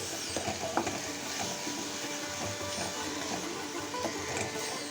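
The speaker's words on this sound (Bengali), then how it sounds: "পেঁয়াজটা জাস্ট একটু হলুদ দিয়ে এভাবে কষিয়ে নিচ্ছি অল্প একটুখানি তেল দিয়েছিলাম" Onion with turmeric sautéing in a small amount of oil, giving a steady close sizzle with scattered scraping and clicking stir sounds throughout.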